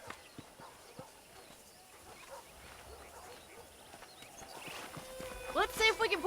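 Horse hooves in Red Dead Redemption on PS3 beat a light, irregular clip-clop at a walk, moderately close amid outdoor ambience, with a voice speaking over them near the end.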